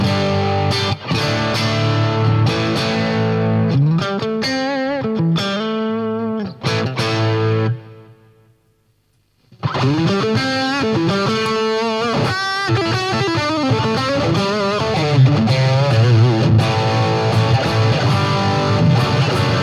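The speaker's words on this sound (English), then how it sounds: "But the Katana is mic'd up at the moment and it sounds like this." Electric guitar played through a miked Boss Katana amplifier with a driven, effected tone: loud phrases of bending notes and chords, a short silent gap midway, then sustained playing.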